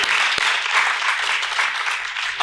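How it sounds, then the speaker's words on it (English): Audience applause after a panel session on community engagement and branding, steady dense clapping from a sizable crowd, continuous and fairly loud across the short stretch. "Let's have a round of applause for these knowledge leaders."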